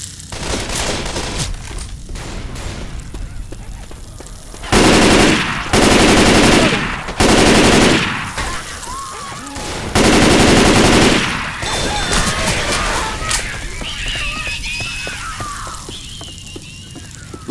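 Gunfire in the zombie shooter Left 4 Dead 2 crackles in rapid automatic bursts, with several loud, sustained volleys separated by short pauses and quieter scattered shots and ambient noise between.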